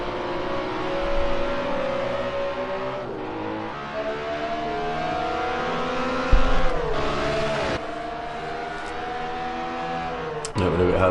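Race car engines in a racing video game at the Hockenheim circuit whine and rev through upshifts and downshifts, with cars passing by and a brief burst of tire noise, continuous and fairly loud.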